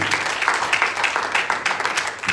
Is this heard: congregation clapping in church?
yes